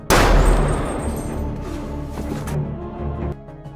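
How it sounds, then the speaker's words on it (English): A single sharp, loud gunshot in a film's prison gangster action scene, followed by a sustained rumbling tail that fades out after about three seconds. "Zaid manages to shoot Mutter to his death"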